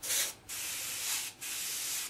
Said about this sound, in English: Alright, let's see how this sprays. I just reduced my white.